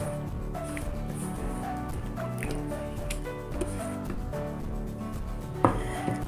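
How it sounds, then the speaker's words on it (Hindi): Grated potatoes are swished and squeezed in a bowl of water in a home kitchen, giving soft wet squelches, drips and trickles with an occasional light knock of the bowl. "आलू हम अच्छी से पानी से वॉश कर लेंगे।"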